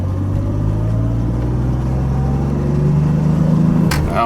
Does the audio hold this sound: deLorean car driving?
yes